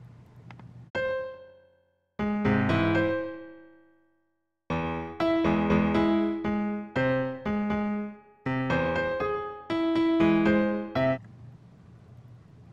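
Synthesized MIDI notes generated by a Mathematica one-liner: bursts of bright tonal notes in irregular clusters with short silent gaps, fairly faint and alone.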